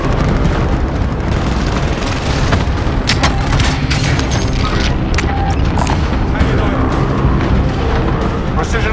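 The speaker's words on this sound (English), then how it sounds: "Precision airstrike missed." Precision airstrike explosions in Call of Duty Warzone, heavy booming blasts piling up continuously across the whole stretch, loud and dense, with sharp bursts rising from a constant rumbling roar.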